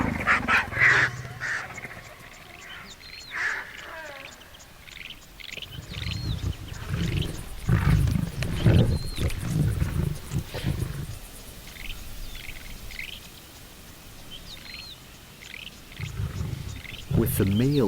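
Lions roar and snarl around a carcass, a lioness and a male squabbling over the meal with vultures nearby, as deep growls and roars come in bursts amid bird calls, overlaid by narration.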